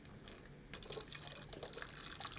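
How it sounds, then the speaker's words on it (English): Water is poured from one bottle into another, giving a faint, steady trickle and splash that picks up partway through and continues to the end. "we're going to pour some water into the bottle"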